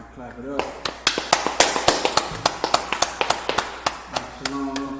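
People clapping in unison during a scripture breakdown class, a steady rhythmic series of sharp, close claps at roughly two per second, with voices talking and chanting over them.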